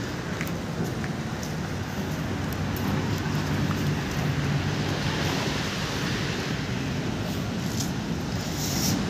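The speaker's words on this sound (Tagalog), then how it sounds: "Ay, umuulan ngayon guys. May bagyo yata, lakas na ulan sa amin." Steady heavy rain from a typhoon pours with a dense, constant hiss, broadband and unbroken for several seconds, with no voices.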